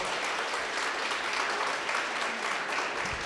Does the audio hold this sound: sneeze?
no